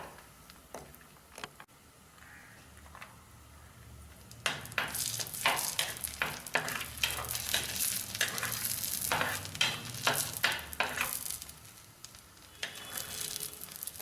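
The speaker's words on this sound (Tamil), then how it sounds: "முந்திரி பருப்பு கொஞ்சம் ரோஸ்ட் ஆன பிறகு கிஸ்மிஸ் பழத்தை போடுவோம்." Cashews and raisins roast in a pan for foxtail millet payasam, with a soft steady sizzle and a run of sharp scraping stirs in the middle, close up and with no talking.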